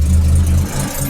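A Daimler Ferret armoured car engine idles with a deep, steady low rumble, close and continuous for about a second with no talking.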